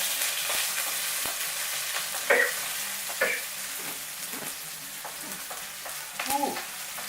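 Ginger and chive hit a hot pan for fried rice, sizzling steadily while a spatula scrapes and stirs in a few distinct strokes, close and fairly loud, with no talking.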